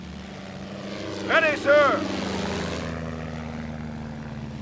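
Enemy aircraft engines drone in as a low, sustained propeller rumble during a Company of Heroes battle, rising and falling under a short shouted voice line from a soldier.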